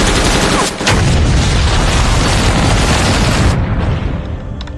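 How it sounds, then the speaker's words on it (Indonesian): A mortar round explodes in the war film Ice Sniper with a loud, sustained booming blast and rumble that cuts off abruptly near the end. "Kemudian ia tembak hingga menghasilkan ledakan yang sangat dahsyat."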